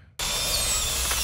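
A power drill whines loudly and continuously in a horror film scene from Saw IV, starting abruptly after a brief quiet moment and holding steady to the end without any talk.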